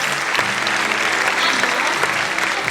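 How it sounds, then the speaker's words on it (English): A large audience gives a sustained, loud round of applause for student performers at a school annual day, dense continuous clapping with no gaps and no voices above it. "Please give a huge round of applause to our shining stars."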